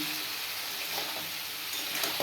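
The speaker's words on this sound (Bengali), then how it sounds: "পোস্ত দিয়েছি গোটা, দিয়ে কষিয়ে এবারে দিয়েছি তোমার সিম।" Green beans fry in a pan with whole poppy seeds, a steady, dense sizzle that holds evenly throughout with no talk.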